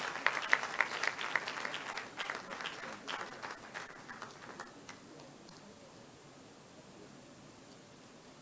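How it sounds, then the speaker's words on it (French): An audience at an opening ceremony for a women's event in Oyo breaks into applause, a dense wash of clapping that swells early and then thins out and fades to near quiet. "Sous vos applaudissements"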